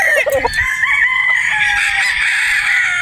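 A rooster crows loudly and close by, one long drawn-out crow that fills the clip, with a brief cluck at the start and no talking.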